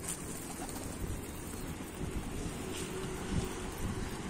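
Pigeons in a loft, with soft low cooing under steady wind noise on the microphone and a continuous ambient hum.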